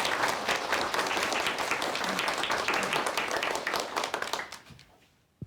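A large lecture audience applauds a speaker with dense, sustained clapping that fades out over the last second into near silence, with one final lone clap.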